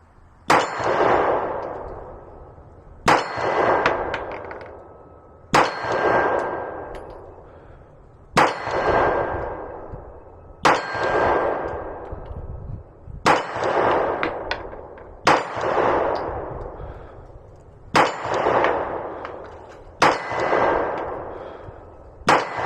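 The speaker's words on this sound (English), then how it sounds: "let's go ahead and shoot a 10-round group at 50 feet" A Glock 26 Gen 5 pistol fires a slow, evenly spaced 10-round string at an outdoor range, each loud sharp crack followed by a ringing metallic decay, with no talking.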